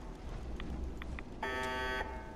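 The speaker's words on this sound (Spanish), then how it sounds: "¿No puedo desactivar la maldita alarma?" In the Fallout 4 video game, a few faint short beeps are followed by a clear electronic alarm buzz lasting about half a second. The buzz is a bright, steady harmonic tone over a low background hum.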